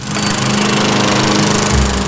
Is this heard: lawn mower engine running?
yes